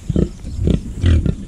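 A pig grunts in several short low bursts while feeding on banana leaves, the grunts close and fairly loud with pauses between them.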